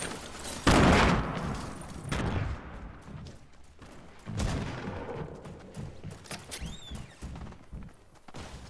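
Fortnite gunfire from all directions: bursts of shots and volleys, some loud and close and others more distant, scattered irregularly across the scene, with no talking.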